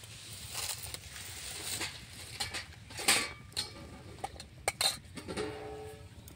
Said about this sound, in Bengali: তো বন্ধুরা আমি থালাটা ঢাকা দিয়ে দিয়েছি।